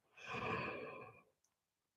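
A slow, deep yoga breath, a long audible exhale lasting about a second, close and soft, followed by a brief faint sound and then quiet.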